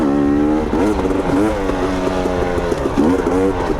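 KTM 250 XC two-stroke dirt bike engine ridden in third gear, a loud close buzzing drone with rising and falling revs throughout.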